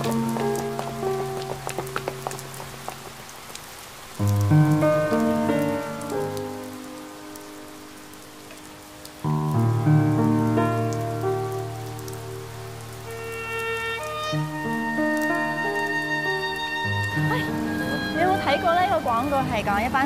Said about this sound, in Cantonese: 喂，而家落咁大雨